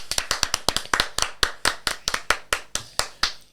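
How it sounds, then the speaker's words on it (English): A small group in a podcast studio claps rapidly and unevenly for a few seconds, sharp close claps in a quick irregular patter, with no talking. "Round of applause in the studio for the Gooms boys."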